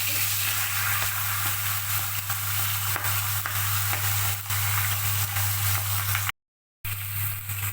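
Katla fish sizzles in hot oil in a wok, a steady, dense frying hiss that runs continuously with a faint low hum beneath and a brief dropout near the end.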